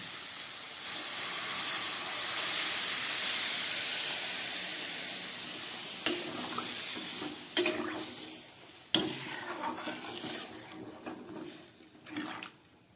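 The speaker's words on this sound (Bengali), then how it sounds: "এবার আমি এই অড়হর ডালটা এর মধ্যে দিয়ে দিচ্ছি।" Arhar dal tipped into a pan of vegetables already sautéed with salt and turmeric, bringing a loud steamy hiss that fades over several seconds, followed by a few sharp clinks and scrapes of stirring.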